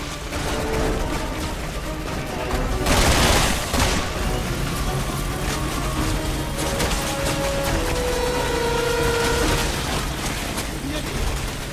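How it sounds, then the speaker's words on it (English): Sustained helicopter gunfire and explosions in Resident Evil 6 during Jake's campaign, a dense, loud barrage with a heavy burst near the middle and continuous rattling shots and rumble throughout, with a voice talking over it. "The helicopter will pretty much rain fire down on you"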